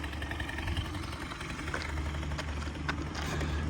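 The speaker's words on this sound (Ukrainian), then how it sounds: "З газом заводиться він на гарячу, трошечки потрібно додати газку, а на холодну без газу заводиться" A Suzuki ZZ Inch Up Sport scooter's small engine idles close by with a steady, even putter and a few faint clicks on top.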